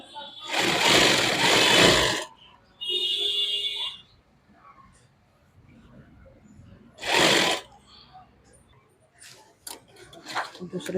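A sewing machine stitches a lined suit in three loud whirring bursts separated by pauses, with a voice speaking quietly between runs and light clicks of handling.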